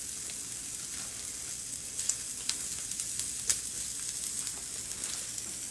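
Jalapenos and onions frying in a pan give a steady, quiet sizzle with scattered crackles and pops rising from the hiss, heard alone without any voices.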